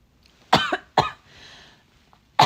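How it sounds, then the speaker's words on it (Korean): A young woman gives sharp coughs from inhaling air the wrong way: two close together, a brief breathy pause, then a third, loud and near. "공기를 잘못 들이마셨을 때 나오는 기침"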